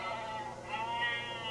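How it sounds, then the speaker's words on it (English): Sheep bleating in a dog driving simulator game, a short wavering cry over a low steady hum. "Where did those sheep come from?"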